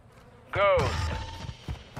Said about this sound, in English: Switching mags. Changing mags.